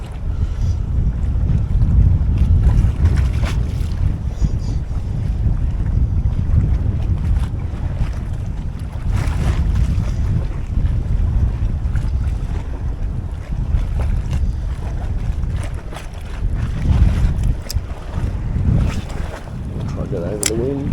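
Strong wind blows over open water on a river from a fishing boat, with constant loud rumbling gusts buffeting the microphone and a voice talking faintly underneath.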